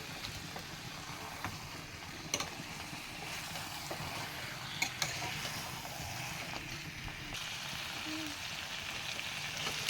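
Potatoes frying in a pan, a steady broadband sizzle with small pops and crackles, continuous and fairly close, no talking.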